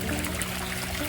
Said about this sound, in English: I'm gonna let this water run in here for about 7 more minutes.